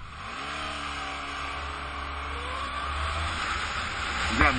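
A Honda VFR1200 motorcycle engine pulls hard while riding, a steady rising drone with wind noise that builds gradually and stays loud throughout.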